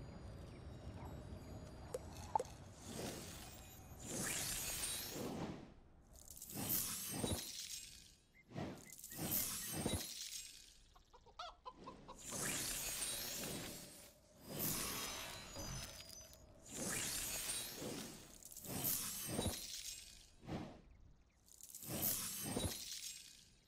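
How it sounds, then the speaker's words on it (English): Glassy, gem-like sound effects from the Aether Cloud mount in a video game: about eight bright, shimmering crystalline bursts in a steady rhythm, each with a swishing, chiming tail, heard alone without talk. "It just kind of felt as if he was on like glass or like some kind of moving gems"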